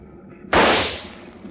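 A single rifle shot in an old 1953 radio drama, a sudden sharp loud blast that decays quickly into a short hissing tail, standing alone.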